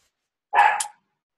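A pet dog gives a single short, sharp bark close by, loud and isolated against silence.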